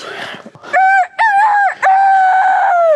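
A person's voice imitates a rooster crowing: a loud, close, drawn-out cock-a-doodle-doo in three strained, tonal bursts that rise and hold before trailing off.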